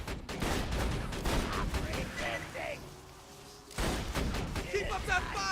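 In a modded Roland video game, the Doll E-Tech gun fires three-bullet bursts while aiming down sights: dense, loud clusters of shots in quick succession, a brief lull, then another volley, with voices and game effects mixed in.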